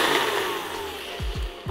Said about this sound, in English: we'll get our blades on, blender on up.